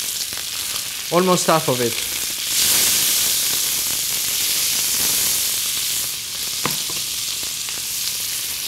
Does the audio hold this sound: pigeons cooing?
no